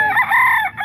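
Rooster crowing once, loud and close, at a busy chicken market, a single short strained call.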